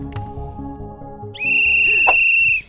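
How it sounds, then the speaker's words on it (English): A single loud, sustained whistle blast rings out for about a second after low background music, with no talking. "that whistle signals that we are very near to the ultimate test"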